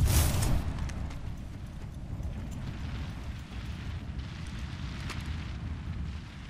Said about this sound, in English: Eat thermite!